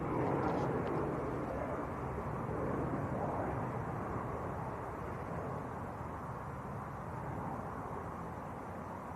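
A China Airlines airliner in blossom livery heard at Manchester Airport, its broad, steady engine roar filling the whole stretch and slowly easing as it climbs away.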